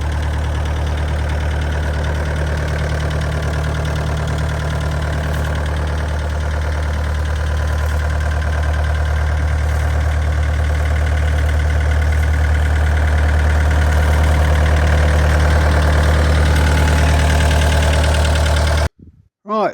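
A car engine with a suspected blown head gasket, leaking water, idles loudly and steadily up close, a deep continuous rumble with a faint rhythmic knock, cutting off abruptly just before the end.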